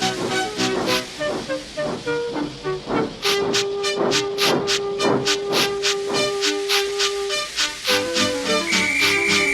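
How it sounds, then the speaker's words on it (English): A steam locomotive in the game Trainz Railroad Simulator 2019 chuffs and hisses loudly, bursts of escaping steam repeating in a steady rhythm while a sustained whistle-like tone runs over music. "with much noise and blowing of steam, got ready to back onto the train"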